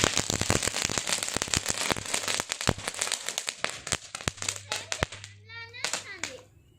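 Green firecrackers set off on wood for Diwali crackle in a dense, rapid string of sharp pops and bangs, loud and close, then taper into scattered bursts with a voice calling out near the end.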